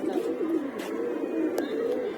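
A large black breeder pigeon in a loft cooing in low, rolling bursts, close and fairly soft, with a few faint clicks in the background.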